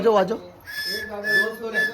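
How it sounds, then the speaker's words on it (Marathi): A child whistles a few short, wavering notes nearby, rising and falling in pitch, with a brief pause between the whistled phrases. "बर्थडे गर्ल बघा मस्त शिट्टी वाजवत आहे"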